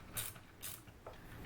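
Ratchet wrench turning in reverse to loosen a battery terminal bolt on a DIY LiFePO4 solar battery box, a few quiet clicking bursts with short gaps, close and faint, no talking.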